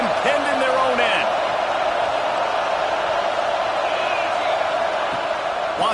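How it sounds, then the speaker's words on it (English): Crowd roar fills a football stadium as fans urge on the defense, a loud, steady wall of cheering that holds throughout with a few whoops rising above it. "The roar of the crowd trying to fuel this defense to keep them pinned in their own end."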